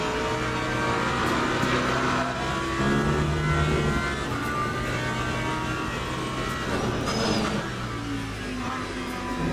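Simulated race car engines in Le Mans Ultimate, including a McLaren and a Corvette in a close endurance race, roar continuously with shifting revs, gear changes and passing cars throughout.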